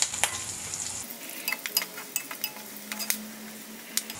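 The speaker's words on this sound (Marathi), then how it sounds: "आता आपण ह्याच्यात कढीपत्ता घालणार आहोत आणि कढीपत्ता घातल्यावर एक मिनिटभर फक्त परतून घ्यायचं आहे" Curry leaves hitting hot oil with golden-brown onions in a pan, a quiet sizzle with light spatula clinks and scraping, steady low frying under occasional utensil taps.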